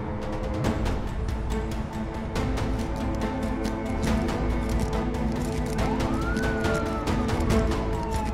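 A police car siren wails, a rising and falling tone over a dense bed of rhythmic clatter and impacts, steady and fairly loud throughout.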